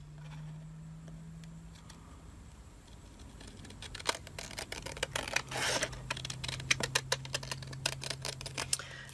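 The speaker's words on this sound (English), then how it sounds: "I'm just going to cut along that white" Scissors trim paper along the edge of an envelope, a quiet run of crisp, irregular snips and clicks that starts after a faint hum, close up, with no talking.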